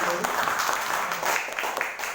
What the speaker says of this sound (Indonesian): Tepuk tangan yang meriah untuk